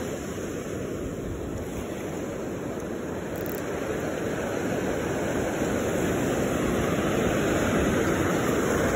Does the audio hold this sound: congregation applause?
no